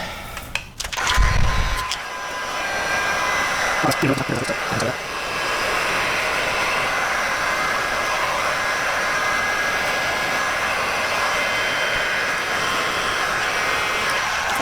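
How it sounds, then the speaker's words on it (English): A heat gun runs steadily during installation of a carbon fiber front lip on a BMW M340i, a close, even whooshing drone after a few brief knocks and handling sounds at the start. "and then heat gun time"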